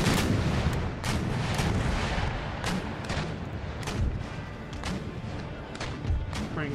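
Naval cannons firing chain shot in the strategy game Empire: Total War, a rapid ragged volley of loud booming blasts, some doubled, over constant battle rumble.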